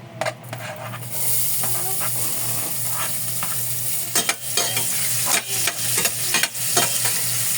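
Onions sautéing in hot cooking oil for chicken feet Bicol Express, a steady close sizzle with repeated scraping and stirring clatters of a utensil against the pan throughout.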